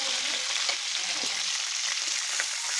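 Spices, including Kashmiri chilli, ground melon seeds and mustard paste, fry in mustard oil for stuffed pointed gourd, giving a steady, close, bright sizzle throughout with faint stirring and no talk.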